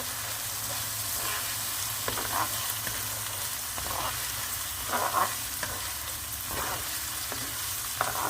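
Rice soaked in hot water being stir-fried in salted pepper paste sauce for a minute, a steady sizzle with periodic scraping stirs of the spoon close by.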